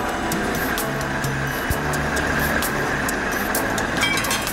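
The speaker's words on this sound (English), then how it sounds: "The track renewal train is built to do lots of different jobs." Track renewal train at work on railroad track, pulling out old wooden ties and spikes, gives a steady, loud mechanical rumble with intermittent clanks and a brief sharp knock, continuous throughout with no voices.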